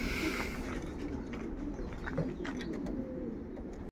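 Pigeons at a loft coo low and continuously amid a dense bed of bird noise, steady and close throughout with no talking.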